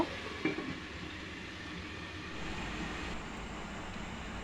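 Moringa leaves frying in a pan after the water has cooked off, a low, steady sizzle with a stir or clatter near the start, quiet and continuous.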